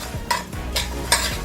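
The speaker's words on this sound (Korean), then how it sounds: "캐슈넛이 노릇노릇하게 볶아졌으면 또 통깨도 넣어서 살짝 더 볶아줄게요" Dry cashews and whole sesame seeds rattle and scrape in a pan as they are dry-roasted and stirred, three quick scraping strokes with a light sizzle underneath.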